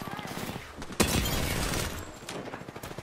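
Rapid gunfire bursts in the Apex Legends shooter game, a sharp close volley with a loud crack near the start and continuing clattering shots, under a player's voice.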